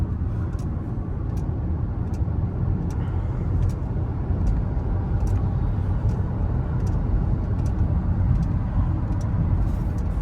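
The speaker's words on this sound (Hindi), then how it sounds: "अभी हम UER पे 6ठे गियर पे चले जाएंगे और सिर्फ" Steady road drone from a Hyundai Verna Turbo cruising in sixth gear on an expressway, a continuous low engine and tyre rumble holding even throughout with faint periodic ticks above it and no talk.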